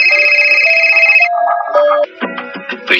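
A phone rings with a bright electronic tone, a sustained trill followed by shifting notes, loud and close, before other tonal sounds take over, with no talk.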